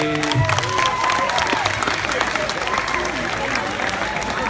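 An audience applauds volunteers on stage during a hypnotist's show at a 2017 project graduation event, with dense, even clapping throughout and a voice talking briefly over the start.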